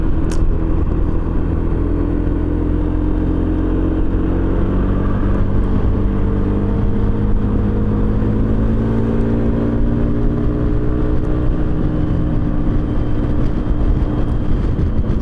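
A 2021 Piaggio BV350 Beverly Tourer 350cc scooter cruising at highway speed on a California highway, with a steady engine drone and heavy wind rumble continuing without a break.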